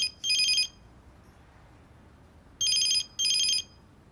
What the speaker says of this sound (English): Oh, come on, Mike, answer the phone